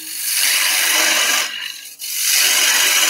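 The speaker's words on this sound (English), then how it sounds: "Land the back of the gouge." A wood carving gouge cuts into a wooden Christmas Eve plate, producing a close, continuous hissing scrape that eases off briefly mid-stroke before resuming strongly, with no speech.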